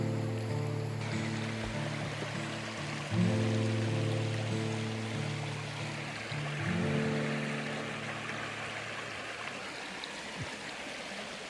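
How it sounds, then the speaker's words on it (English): Bear Creek running right beside a campsite, a steady broadband wash of flowing water that holds throughout, with a low droning hum layered underneath. "The campsite really is sitting right next to this beautiful creek, which I assume is Bear Creek."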